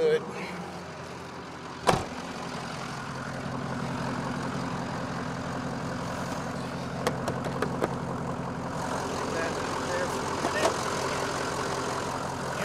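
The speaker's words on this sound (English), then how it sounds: "Here's our motor. You can see it's in really nice shape." A low-mileage 2007 car engine idles steadily under an open hood, a continuous low rumble with a sharp knock near the start and scattered light clicks, while a person talks over it.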